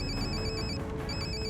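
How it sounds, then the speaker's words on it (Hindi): An electronic telephone bell rings in a steady repeating pattern, pausing for a beat midway before ringing again, loud and close over a busy indoor background with no one speaking. "और ये किसका फोन आ गया?"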